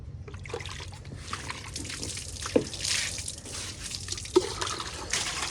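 Water splashes and trickles steadily over a Royal Enfield Bullet motorcycle being washed, with scattered drips and a couple of sharper splatters, fairly close.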